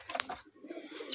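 Pigeons coo softly in a backyard bird enclosure that also holds chicks and hens, a faint, brief burst of low cooing with light background bird sounds.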